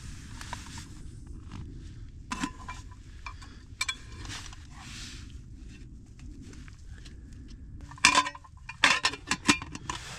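Metal camping mess tins and cutlery clink at a mountain campsite, scattered light scrapes and taps over a low background hum, then a brisk cluster of sharper metallic clatters toward the end.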